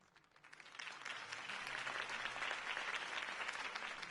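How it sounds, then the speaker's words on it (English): Crowd applause following a campaign speech in a Batman video game, a dense wash of clapping that swells within the first second and then holds steady and full until the end. "If only Mr. Wayne, my campaign's largest backer, could have heard that applause"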